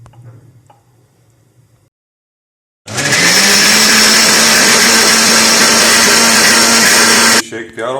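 An electric blender whirs loudly for about four and a half seconds, blending bananas, milk, sugar and cream into a milkshake in its jug. It starts and stops abruptly after quiet speech and a short silence.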